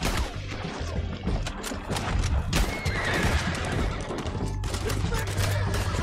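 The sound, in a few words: horses neighing and galloping in video game Red Dead Redemption II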